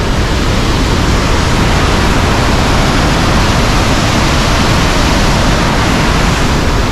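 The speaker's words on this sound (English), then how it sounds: "You see the first little dip here into the falls right below us." Montmorency Falls in Quebec City roars as a steady, loud broadband rush of heavy falling water, heard close below with no pauses or voices.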